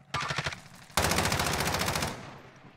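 Automatic gunfire in the video game Warzone: a short burst of rapid shots, then a pause, then a longer sustained stream of shots that trails off, loud and close, with no talk.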